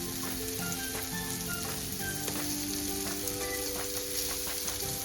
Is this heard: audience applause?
no